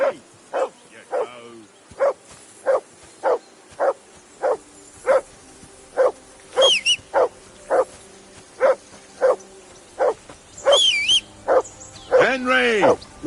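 In the medieval video game Kingdom Come 2, a dog barks over and over in a steady, loud rhythm of sharp single barks, with a voice speaking and a few whistle-like tones among them.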